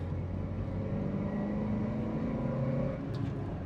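Mk1 Mazda MX5 engine droning steadily from inside the cabin as the car is driven along twisty roads, a constant close hum with slight pitch shifts and a faint tick near the end.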